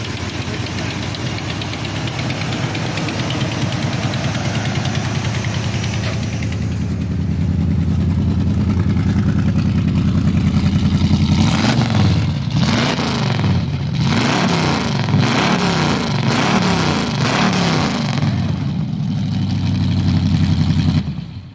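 A Buick Skylark with a 455 custom V8 idles with a deep, rough rumble, then revs repeatedly in surging waves before settling back, loud and close with no talking over it.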